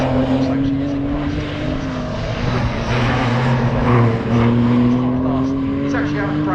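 Porsche race car lapping during Porsche Club Championship qualifying at Snetterton, a sustained, droning engine note passing at speed beneath continuous commentary.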